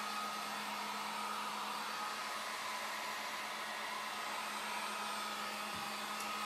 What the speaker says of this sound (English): If you hold your heat gun too close, your paint will bubble, so don't do that. Just keep on moving it.